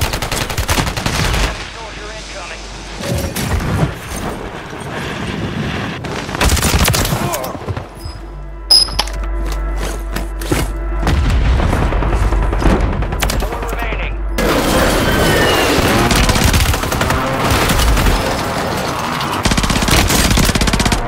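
Sniper fire and other gunfire in the video game Warzone: repeated loud shots and rapid bursts, with a quieter stretch in the middle and dense firing again near the end, while players talk over it.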